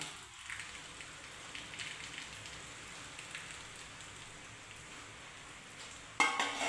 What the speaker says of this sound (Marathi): बाहेर तर पाऊस आहे